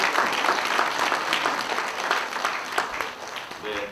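An audience claps at a Democratic Party committee launch ceremony, a steady round of applause from a seated crowd filling the room, easing slightly toward the end with a faint voice entering at the close.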